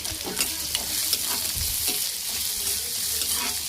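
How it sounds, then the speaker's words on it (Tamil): Onion, green chili and garlic sautéing in a pan for coriander-mint chutney, a steady close sizzle broken by scraping stirs and brief clatters of the spoon, with no talking. "இப்போ ஆனியன் நல்லா வதங்கட்டும்"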